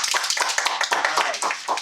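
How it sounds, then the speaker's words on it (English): Dense applause from a meeting audience for a keynote speaker at a Toastmasters club, many hands clapping close by in an irregular, sustained burst. "Let's give him a round of applause again"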